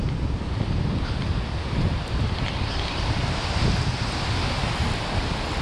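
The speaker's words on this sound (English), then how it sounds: "wait for that next wave." Ocean surf breaks and washes along a fishing beach under steady wind, a constant loud roar of waves with heavy wind buffeting the microphone throughout.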